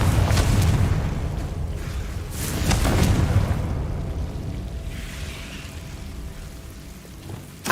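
A Confringo fire spell explodes in Hogwarts Legacy on Xbox Series X: loud, rumbling blasts with bursts near the start and around the three-second mark, then a softer crackling roar that fades out.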